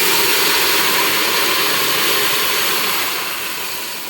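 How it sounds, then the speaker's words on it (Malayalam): Water poured into hot, melted brown caramelized sugar in a pan gives a loud, continuous hissing roar that tapers off slightly toward the end. "ഞാൻ വെള്ളം ഒഴിക്കാം കേട്ടോ."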